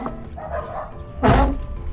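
A squeaky, rusty door hinge on a Toyota Revo lets out a loud, sharp squeak near the end, after a fainter creak, almost like a dog's yelp.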